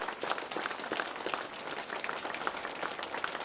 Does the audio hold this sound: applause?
yes